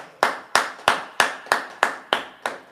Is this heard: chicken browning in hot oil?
no